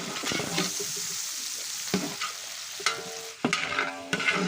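About three kilos of onions sautéed in a large pot for nonbu kanji, a batch for about a hundred people: loud, close stirring scrapes and metallic clanks over a continuous hissing sizzle, with no talking.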